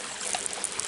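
A small waterfall on a mountain valley stream at Jangyongsan in Okcheon-gun, Gunseo-myeon, pours in a steady, dense rush of trickling and splashing water, close and continuous.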